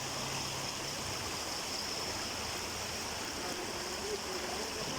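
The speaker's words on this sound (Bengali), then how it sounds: "প্রচুর পানি বাড়তেছে। পানি বাড়ছে, রাত্রে তো এত পানি ছিল না।" Rising floodwater flows past the main road at Bansh Para, Chhagalnaiya, Feni, early in the morning, a steady rushing wash with no breaks, moderately loud and alone.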